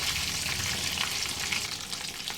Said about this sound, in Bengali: সাইডটাও এক থেকে দেড় মিনিট লো ফ্লেমে ভাজা হতে দেবো